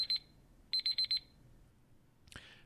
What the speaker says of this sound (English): If you hear the beep, beep, beep, you know what that means.